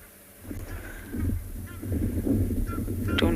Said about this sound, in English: Egyptian geese, I do.